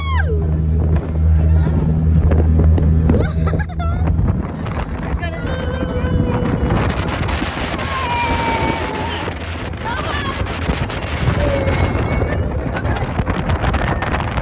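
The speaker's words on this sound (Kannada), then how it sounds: "ಅದಕ್ಕೆ ನಾವು ಒಂದು ಸ್ವಲ್ಪ ಜನ ಮಾತ್ರ ಸ್ಪೀಡ್ ಬೋಟ್ಗೆ ಹೋದ್ವಿ. ನಮ್ಮ ಬುಚ್ಚಿ ಮತ್ತು ಯೋಹ ಕರ್ಕೊಂಡು." A speedboat ride on water in Coorg, where engine drone and hull noise mix with heavy wind buffeting the microphone and some voices in the background.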